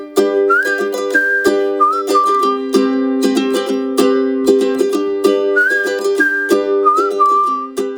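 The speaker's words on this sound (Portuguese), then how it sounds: "comecei a assobiar uma melodia" A person whistles a short, bright melody in clear repeated phrases, close and loud, over a sustained chordal backing with steady rhythmic accents.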